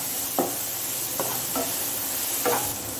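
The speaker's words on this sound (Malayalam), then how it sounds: "ഒരു 4-5 മിനിറ്റ് നമുക്ക് ഉള്ളി നല്ലതുപോലെ സോട്ട് ചെയ്തെടുക്കാം" Onions sauté in a pan for poha, making a steady low sizzle with a few separate spatula scrapes spaced through the few seconds, close by and without speech.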